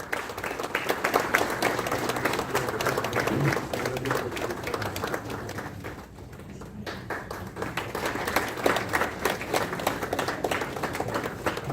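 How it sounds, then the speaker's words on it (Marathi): An audience at a Constitution Day event claps in sustained, dense applause that dips briefly midway before swelling again, with no talking. "टाळ्या वाजल्या पाहिजे।"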